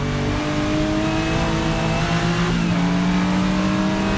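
A Porsche 935 race car engine revs loud and close, its steady harmonic drone climbing in pitch midway through with a brief shift, running continuously and alone without any voices.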